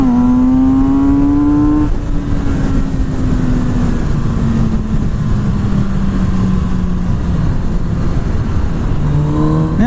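A Kawasaki Z650 twin-cylinder motorcycle with an Akrapovic exhaust accelerates through the gears, a loud close engine note climbing in pitch, dropping at a shift and climbing again under heavy wind rush.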